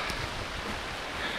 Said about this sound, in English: It is pouring now.